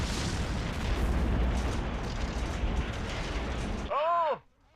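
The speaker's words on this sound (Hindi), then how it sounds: "और तभी एक धमाका।" Fuel tanker exploding during a fire: a loud, sustained roar and rumble builds, then a single sharp blast with a ringing, swooping tail before sudden quiet.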